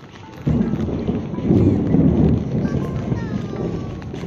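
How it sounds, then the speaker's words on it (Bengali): Thunder rumbles low and continuous through steady rain near a parking area by a cave in the hills near Mawlynnong, swelling loudest mid-clip, with no talk over it. "বেশ মেঘ ডাকছে।"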